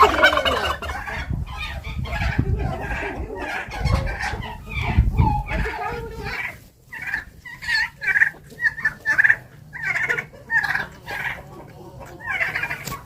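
Rough handling noise and rustling give way to a flock of turkeys gobbling in quick, repeated bursts, fairly close, on a farmyard, with a person talking briefly.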